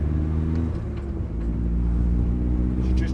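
A turbocharged Mazda MX-5 Miata making 280 hp on 25 psi of boost rumbles steadily from inside the car on its first drive, a low droning engine note that holds even and close throughout.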